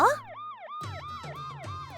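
A cartoon police car siren wails in rising and falling cycles, starting after a short sharp blip, then repeating steadily and loudly with a low engine rumble beneath.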